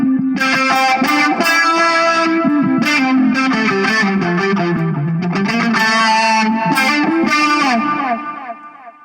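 An electric guitar played through a distortion pedal with a second effects pedal engaged, sustained chords and bending notes ringing loud and close, fading out at the end.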